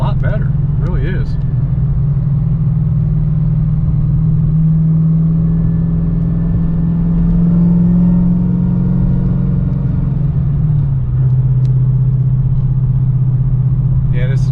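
A Whipple supercharged Dodge Challenger Scat Pack with CNC-ported heads drives steadily, its deep engine rumble loud and continuous, swelling briefly under light throttle before settling back to a low drone.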